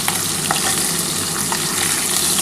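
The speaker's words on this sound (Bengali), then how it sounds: "আর অল্প একটু লাল করে ভেজে তারপর তুলে নেবো।" Pieces of katla fish frying in hot oil until reddish, a dense continuous sizzle heard up close with a few light taps, no voices.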